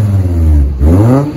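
Volvo naturally aspirated 2.4 litre inline five-cylinder engine revving loudly up close, a rising and falling throaty growl with a brief dip before climbing again.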